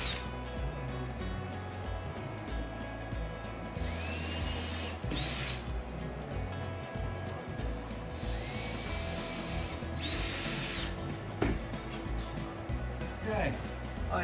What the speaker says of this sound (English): Using your drill with your bit, you need to pre-drill. So I'm just going to pre-drill here now.